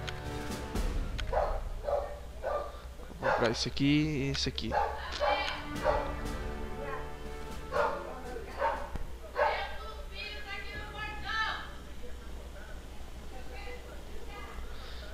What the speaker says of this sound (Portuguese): E minha cadela não para de latir,